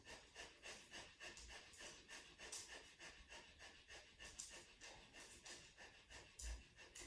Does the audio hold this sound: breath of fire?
yes